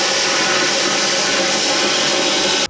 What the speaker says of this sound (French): Ça faisait longtemps que j'avais pas découpé au plasma.